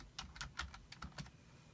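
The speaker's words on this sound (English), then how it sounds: "we're actually going to type in jeans next" Clicky keystrokes on a computer keyboard while someone types out a product search term, about seven quick taps in an uneven rhythm, close and fairly quiet, with no talking.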